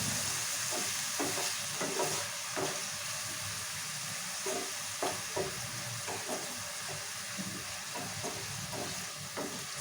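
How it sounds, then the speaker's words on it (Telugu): Onions fry over a medium flame in a pan for ridge gourd curry, a steady sizzle with repeated scraping stirs of a spoon at a regular rhythm, close and fairly soft. "సో మంచిగా మీడియం ఫ్లేమ్లో మంచిగా ఎర్రగా ఫ్రై చేసుకోవాలి."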